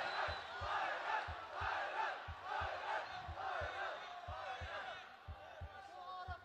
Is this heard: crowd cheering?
yes